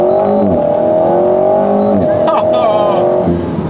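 An Alpine A110 Légende GT lightweight sports car pulls away hard from a standstill at a green light, engine note loud and close, rising through the revs with a brief shift dip, steady strong drone throughout.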